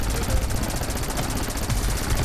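Helicopter rotor in the side-scrolling game Rocketbirds, a steady dense whir with rapid pulsing chop and low rumble throughout, mixed with game effects.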